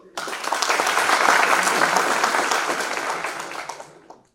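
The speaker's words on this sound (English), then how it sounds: "Big round of applause" A crowd at a valedictory ceremony of an innovation showcase breaks into applause that swells quickly, holds steady for a few seconds, then tapers off toward the end.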